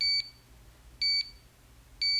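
Three short electronic beeps from a HONMAX 8800 gym interval timer at a steady one-second interval, each a bright two-tone chirp over a faint background hum.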